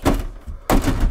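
A shower door in a Rapido C55 motorhome bumps shut, two close, dull thunks about half a second apart.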